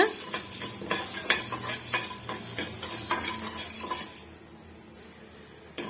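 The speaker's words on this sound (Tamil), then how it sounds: "இந்த உளுந்தும் கடலை பருப்பும் சட்டுன்னு வந்து நல்லா வறுபட்டு வராது அதனால் ஃபர்ஸ்ட்லேயே போட்டு இதை நம்ம வறுத்தி விட்டுக்கலாங்க" Urad dal and chana dal dry-roasting in a pan for instant chutney, stirred with a spoon in a steady run of scraping, rattling strokes with a faint sizzle, close by, ending in near quiet.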